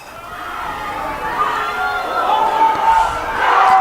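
Alberta fans at a women's U18 football gold medal game against Ontario, a broad crowd roar with shouting and cheering that swells steadily, loud and continuous with an announcer's voice over it.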